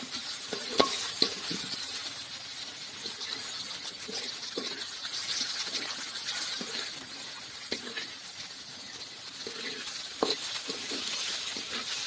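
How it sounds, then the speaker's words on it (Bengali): Turmeric and green chili powder are stirred and sautéed in a pan for coconut hodgepodge, giving a steady soft sizzle with occasional light scrapes and clinks of a spoon. "পরিমাণ মতো হলুদ, পরিমাণ মতো কাঁচা লঙ্কা গুঁড়া কষিয়ে নিব।"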